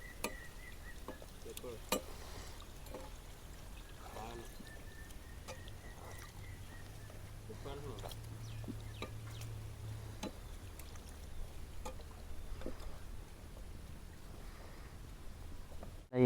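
Puris deep-fry in a pan of hot oil: a soft, steady sizzle with scattered light clicks and bubbling, heard close but faint and with no talking.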